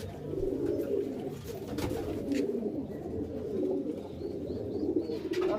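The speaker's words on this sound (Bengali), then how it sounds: "দাদা একটু ছেড়ে দেখাও, এই রামপুরি পায়রা দুটো" Rampuri pigeons cooing, low rolling coos repeating close up in a continuous murmur, with light rustling and flutter among them.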